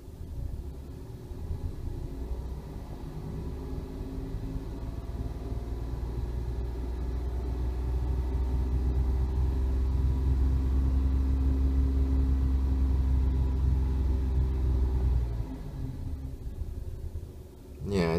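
A Toyota Aygo engine idles, then rises to a louder, heavier rumble as it accelerates and falls back again, steady and close throughout.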